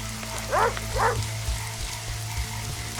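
Frogs croak in the video game The Witcher 2: Assassins of Kings amid rain, two distinct close croaks early on over a steady hum and patter, with no talk.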